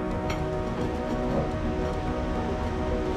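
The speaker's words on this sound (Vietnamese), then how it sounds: "Mưa tới luôn rồi." Rain begins falling outdoors in rural Trà Ôn, Vĩnh Long, making a dense, steady wash of hiss and patter that stays even throughout, with no voices.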